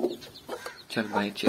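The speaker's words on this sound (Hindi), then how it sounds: "अंदर गया हूँ तो मुर्गी मार रही है।" An agitated hen gives sharp, harmonic clucks while pecking at someone inside a farm chicken coop, close and fairly loud, with someone speaking briefly between the calls.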